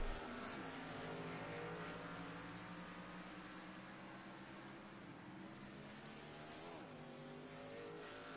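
Race car engines from the iRacing sim at Talladega, a steady multi-car drone with layered harmonic whine, distant and moderately faint, running continuously without a break.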